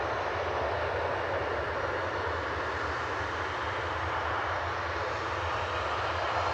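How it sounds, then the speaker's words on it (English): A Ryanair Boeing 737-800 jet departing Manchester for Dublin sends out a constant broad engine roar with a low rumbling undertone, steady in level and heard alone without speech. "Next to go is Ryanair flight 553 with a 737-800 back over to Dublin"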